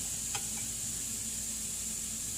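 Ground beef added to wilted greens in a pan, a quiet steady sizzle with a faint tap early on, soft and continuous close by.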